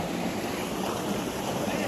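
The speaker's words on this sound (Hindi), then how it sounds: "वाटरफॉल देखना, ये देखो" Waterfall on a trip to Devi Pindi, a steady broad rush of falling water mixed with wind buffeting the microphone, continuous and fairly loud throughout, with no clear speech over it.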